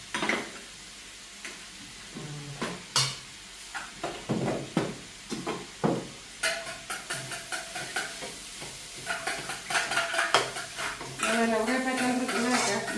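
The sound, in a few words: stir-frying bread kottu in a pan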